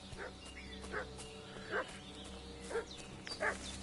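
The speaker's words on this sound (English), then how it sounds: "What's that dog making such a fuss about?" A dog barks repeatedly at a distance in the video game Kingdom Come Deliverance 2, several sharp barks spaced about a second apart over a low ambient background.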